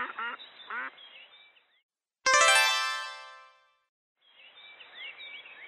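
A duck quacks once, loud and close, in a buzzy drawn-out call set between stretches of other bird-like calls and a moment of silence.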